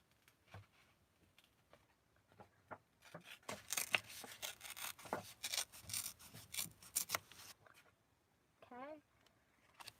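Paper Christmas embellishments for a junk journal are torn by hand, making close, quiet rasping rips that come in a dense run of bursts through the middle, with softer scattered rustles before and after.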